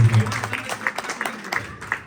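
Audience clapping at a lively dandiya night in Haridwar, a quick burst of applause over a busy crowd with a voice speaking through it.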